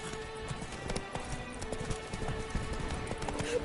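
Horse hooves clip-clopping in The Witcher 3, a steady rhythm of close, fairly quiet hoofbeats with a faint whinny near the end.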